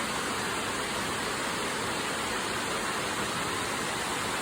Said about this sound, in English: Little closer look at the falls